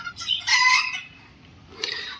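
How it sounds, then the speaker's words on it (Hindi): A rooster crows near an outdoor bird cage holding budgies and parrots: one loud, harsh call, a brief lull, then the start of another call. "मुर्गा बोल रहा है शायद इसी को देख के"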